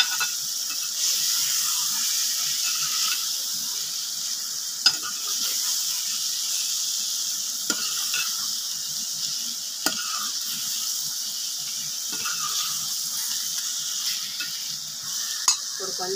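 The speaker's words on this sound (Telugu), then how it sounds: "ఒక్కసారి కలుపుకుందామండి." Eggs fry in a pan as a spatula stirs them, giving a steady sizzling hiss broken by occasional sharp scrapes and clicks against the pan.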